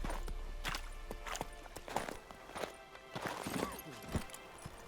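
Horse hooves clip-clopping in The Witcher 3: a steady rhythmic run of hoof strikes at moderate distance over a low rumbling background.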